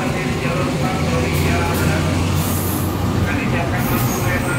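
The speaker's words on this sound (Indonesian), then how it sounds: "Kereta api Progo berangkat" Progo passenger train departing a busy Jakarta station, a continuous broad rumble of rolling wagons with hissing bursts, heard amid the station's background noise.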